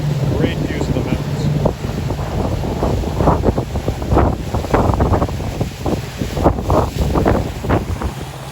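A Tollycraft 65 motor yacht cruising at about 980 RPM and 11 knots at sea near Jervis Inlet, giving a steady engine drone mixed with wind buffeting the microphone and water rush, with someone talking over it throughout.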